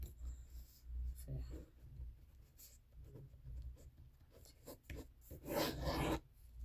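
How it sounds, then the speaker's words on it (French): A pen scratches across paper in short strokes and pauses, close and quiet, with soft rustling of the page in between. "je vais écrire ça"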